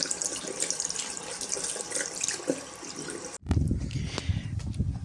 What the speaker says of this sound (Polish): Masz tu ciepłą wodę, tu masz zimną wodę. A jak chcesz mieć letnią wodę, to musisz coś takiego robić.